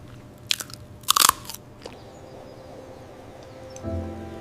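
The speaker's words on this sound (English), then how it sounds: "Listen to that crunch in every bite." Crunchy home-cooked food with rice and broth is bitten in the kitchen, giving a couple of sharp, close crunches and then quiet chewing, with no talking.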